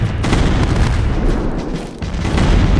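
Massed cannon battery fire in a Napoleonic-era war video game, a dense continuous rumble of overlapping booms and blasts rolling on throughout, loud and close.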